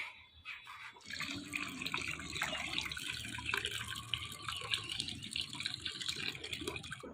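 Small puti fish being rinsed under a running tap in a village kitchen, a continuous splashing stream of water with faint dripping and handling noises, steady and close, with no talking.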